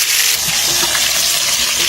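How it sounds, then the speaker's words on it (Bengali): Onions and spices fry in hot oil, giving a loud, close, continuous sizzle that crackles briefly, with no voices. "খুব সুন্দরভাবে আগে মশলাগুলো আমরা ভাজা করে দিচ্ছি।"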